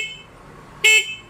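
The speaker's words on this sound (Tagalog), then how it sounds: "Mas malakas po yung busina." A single short, loud beep from the horn of a Euro Daan Hari 125/150/175 motorcycle fitted with a relay sounds nearby after a quiet moment.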